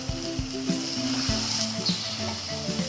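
Spinach kofta frying in plenty of ghee in a pan gives a steady, close sizzle with occasional spoon knocks and stirring.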